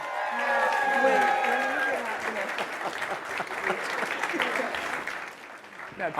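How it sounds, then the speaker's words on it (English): Warm applause and scattered cheers from a studio audience welcoming a media host and co-host on stage, loudest at first, then thinning slightly while a voice calls out over it. "Hey, don't give all the claps up now, all right?"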